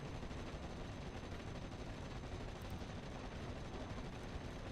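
Distant gunfire from a Bren light machine gun team firing from buildings in a WWII tactical video game, a dense continuous crackle of shots under steady battle noise, fairly faint.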